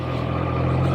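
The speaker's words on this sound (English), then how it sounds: "we are going to take that hot rod, Triumph Trident 660, out for a blast of a ride" A Triumph Trident 660 motorcycle engine runs with a steady, loud low throb and rising drone, close by, with no talk over it.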